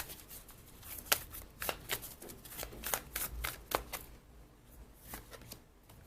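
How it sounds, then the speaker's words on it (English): Oracle cards being shuffled and pulled by hand, a close run of crisp riffling slaps and flicks in irregular bursts, ending with a few softer handling sounds and no talk. "I'm gonna pull one more card for you"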